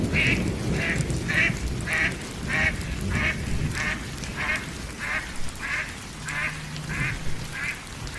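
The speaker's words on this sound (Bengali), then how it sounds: "হাঁসটা কেমন ছোটাছুটি করছে" A cartoon duck quacking in a regular, evenly spaced series of about a dozen nasal calls, loud and near, over a busy background of music and effects.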